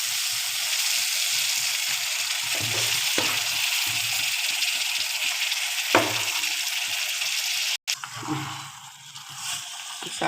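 Pre-cooked mushrooms with a little of their water added to a hot frying pan for a mushroom curry, a continuous hissing sizzle with occasional stirring scrapes, cut briefly near the end.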